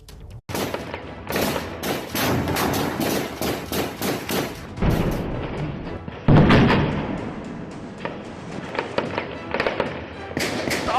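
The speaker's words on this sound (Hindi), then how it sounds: "ताबड़तोड़ गोलियां" Dense gunfire during an encounter with terrorists at Malura, Srinagar: rapid bursts and overlapping shots crackling continuously and loudly, with a heavy boom partway through and a few faint voices beneath.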